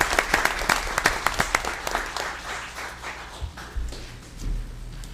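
A city commission meeting breaks into applause from the room, with a burst of hand claps that thins out, leaving scattered claps and some murmuring toward the end.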